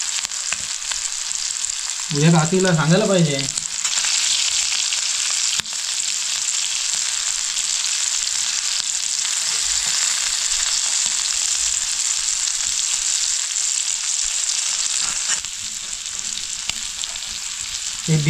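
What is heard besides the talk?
prawns and garfish frying on a griddle over a wood stove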